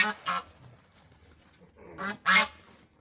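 Geese honk nearby in a few loud, brassy calls, a pair at the start and another pair near the end, with quiet pauses between.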